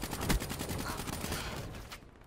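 Rapid bursts of automatic gunfire from the Call of Duty video game, dense and loud with repeated shots rattling through the whole clip before tailing off at the end.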